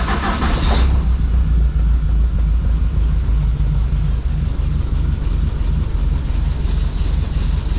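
A Ford engine fitted with Vauxhall parts cranks with a brief whine, then catches and settles into a loud, steady running rumble close by, idling rich with no talk over it.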